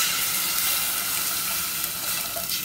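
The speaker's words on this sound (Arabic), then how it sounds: "هنزل دلوقتي بالميه" Water pours into a cooking pot for rice, over meat fragrant with cardamom: a continuous, close splashing stream that runs steadily for a couple of seconds with no talking.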